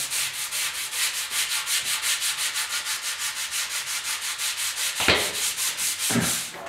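Rhythmic back-and-forth hand sanding of a Yamaha RS 100 motorcycle fuel tank with 220 grit sandpaper, steady rapid strokes close up, with two brief louder scrapes near the end.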